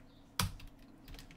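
A single sharp clack of a computer keyboard key, followed by a few faint soft taps, close and quiet against a low background hum.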